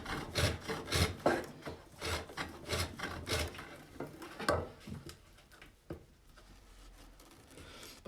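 A blade cuts into a piece of wood on a pole lathe, giving rhythmic rasping scrapes with regular bursts that thin out and grow sparser toward the end.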